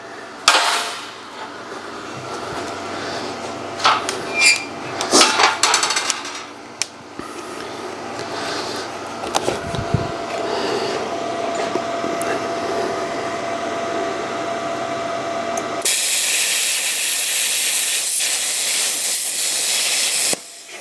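An Arccaptain CUT55MP plasma cutter slicing half-inch metal makes a loud, steady hissing roar with crackles and sputters, then a sharper, brighter rush of air near the end.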